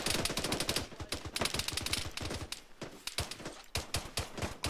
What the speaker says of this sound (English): We're taking fire direct east.